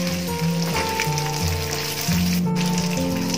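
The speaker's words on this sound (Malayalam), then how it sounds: "അതുകൊണ്ട് നമുക്കിത് എണ്ണയിലൊന്ന് മുക്കിയെടുക്കുക മാത്രം ചെയ്താൽ മതി." Boiled chickpeas being fried in oil for a Kerala-style bakery mixture, a steady close sizzle with crackling bubbles running throughout, alone with no talk.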